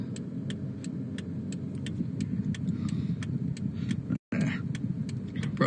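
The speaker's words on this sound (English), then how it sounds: "Here comes another car." An ordinary road car rolls past outdoors at night, a steady mid-distance rumble under constant insect chirping, with a brief dropout near the end.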